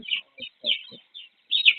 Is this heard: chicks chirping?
yes